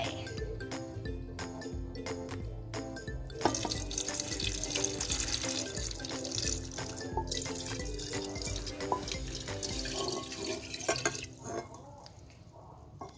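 Cooled boiled pickling brine for homemade pickled mustard greens poured into a glass jar, a steady close liquid splash and trickle with small clinks, loud throughout and tapering near the end.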